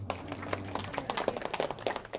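A group of children claps together in quick, uneven bursts, the handclaps fairly close and moderately loud, with a low steady hum underneath at the start.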